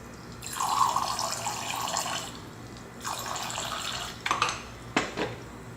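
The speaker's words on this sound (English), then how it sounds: "I just sprayed water in there because I was not by the sink." Water sprays into a hydroponic growing container in several hissing bursts, with pauses between them and a couple of light clinks near the end.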